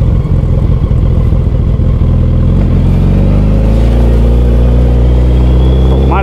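A car engine runs loud and close after being started and put in gear, with a rough rumbling idle and a rising, strained tone, in a clutch-failure situation on a remote road.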